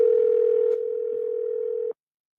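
A telephone ringback tone sounds while a call waits to be answered, one steady, loud electronic tone that steps slightly quieter partway through and then cuts off abruptly, alone with no talk.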